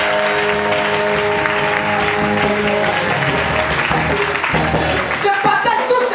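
A church congregation in Abidjan claps and cheers steadily through a Sunday convention service, a dense wash of applause mixed with voices and a sustained musical tone.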